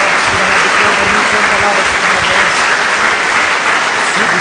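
A church congregation breaks into loud, dense, sustained applause for Jesus, a continuous wash of clapping close and full throughout.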